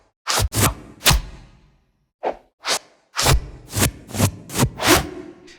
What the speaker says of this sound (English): And just the whoosh sounds.